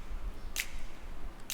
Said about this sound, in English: Here I added the snaps, I think.